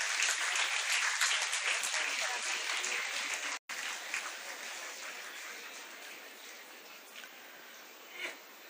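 A school felicitation ceremony for Class X achievers, where an audience applauds a student for top marks. Dense, steady clapping runs loud, cuts out for an instant, then resumes and slowly fades.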